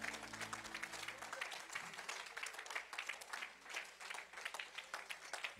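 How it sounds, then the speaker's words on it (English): A church congregation gives a big round of hand clapping during a sermon, a busy sustained wash of claps with a low sustained tone fading out early and the applause carrying on steadily to the end. "give the Lord a great big hand clap"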